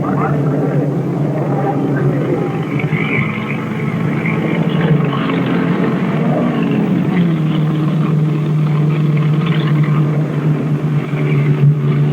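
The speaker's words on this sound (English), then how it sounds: "The red and black Maserati cutting in there is driven by Jack Hinkle of Wichita, Kansas." Engines of 1958 Grand Prix racing cars, including a red and black Maserati, at the Lake Garnett road race: a loud, continuous droning roar that holds steady throughout with no clear breaks.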